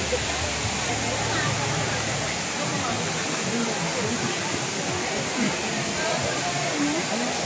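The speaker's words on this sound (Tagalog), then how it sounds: "Saka yung waterfalls niya hindi masyadong matubig dahil summer." Broadband roar of Daranak Falls in summer, when the flow is lower than usual, steady and fairly loud throughout, with a busy crowd's voices murmuring underneath.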